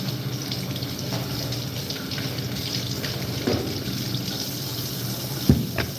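Apples washed under a running tap at a farm workers' lunch break, a steady close stream of water splashing into a sink with an occasional knock or clunk near the end, no talking.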